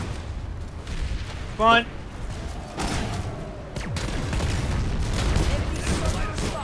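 Gunfire in the video game Planetside 2 aimed at mines: a sustained, fairly loud barrage of shots and booming impacts that builds toward the end, with a player shouting briefly over it.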